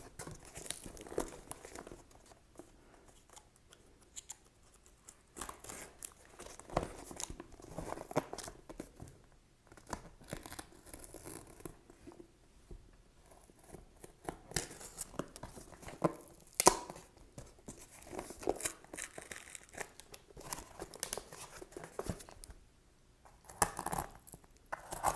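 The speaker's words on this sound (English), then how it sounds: "Just cut down in here with the X-Acto and just start peeling it back." Layers of bookboard being cut with an X-Acto knife and peeled back by hand: quiet, close crinkling, tearing and scraping sounds in irregular bursts with brief pauses.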